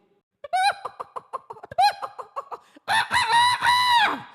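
A human voice mimics a rooster: a rapid series of clucks, then a loud, drawn-out crowing call, close and clear.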